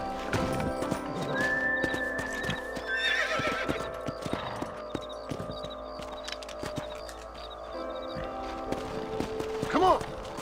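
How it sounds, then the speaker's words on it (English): Horse hooves clip-clop steadily along with a neigh in the video game Red Dead Redemption, set against a busy layered background and occasional distant voices. "Let's get back on the horses and see what else is going on."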